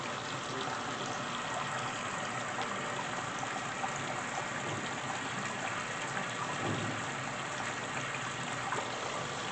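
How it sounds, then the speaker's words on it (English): Fabric softener pouring from a GE washing machine's dispenser holes into the drum water, a steady close gushing, trickling stream that runs continuously without pause. "And that's how the fabric softener comes out."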